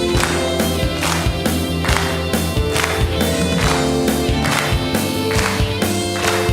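At a Korean church's Sunday morning worship service, the congregation claps steady, rhythmic beats in time with loud sung worship music, the handclaps blending with the voices and instruments throughout.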